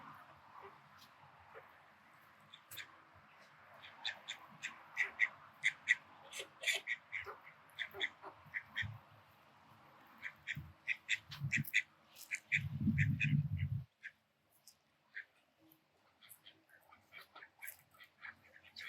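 Ducks on a small duck farm quack in repeated bursts of varying loudness, with bird chirps mixed in and a louder, lower outburst near the end before things go quiet.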